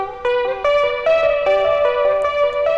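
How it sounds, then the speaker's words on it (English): Guitar part doubling a bell melody, drenched in heavy delay and reverb so each plucked note rings out and smears into the next, a steady sustained wash of repeating tones with no voices. "a ton of like delay and reverb"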